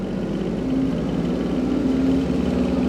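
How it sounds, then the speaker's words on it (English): An Iseki TLE3400 compact tractor's engine, with a Fleming finishing mower hitched behind, revs steadily up toward PTO speed, a continuous mid-pitched drone that holds a near-constant level with a faint rising whine. "I'm going to rev the tractor up now until we get to the green on the dash"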